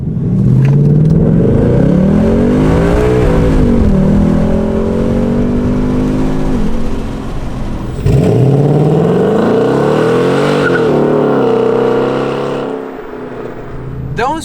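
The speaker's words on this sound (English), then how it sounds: "I want to see how quickly this car can actually go through the gears in the 10-speed auto" A 2018 Ford Mustang GT with a 10-speed automatic launches hard in drag mode, its V8 engine note climbing and dropping through rapid upshifts, then roaring on loud and close through a second long pull.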